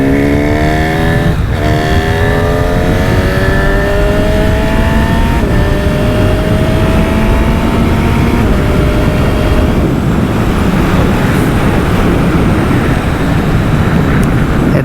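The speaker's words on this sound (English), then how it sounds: "This engine with this exhaust, yes, it might be a little big, but it has a really stunning sound." Honda CB1000 SP Hornet superbike engine through its exhaust, revving up through several gears with rising, raspy howls and brief shift breaks, then a loud sustained roar under wind rush.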